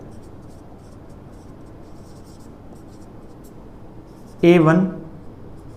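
A marker or chalk scratches steadily across a board while a determinant is written out, a soft continuous scraping, followed near the end by a short spoken phrase.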